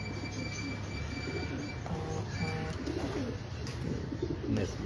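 A breeder pigeon cooing on a Lahore rooftop loft, with soft repeated coos over a constant low background rumble and hum.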